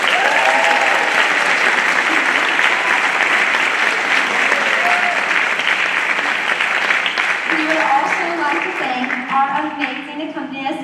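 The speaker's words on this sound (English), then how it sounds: "Now let's give a round of applause for our tech group." A school choir concert audience applauds for the tech group in a sustained, dense burst of clapping. Scattered voices rise toward the end as the clapping thins and a speaker begins talking.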